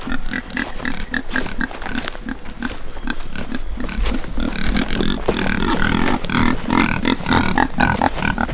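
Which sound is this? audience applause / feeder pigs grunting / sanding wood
feeder pigs grunting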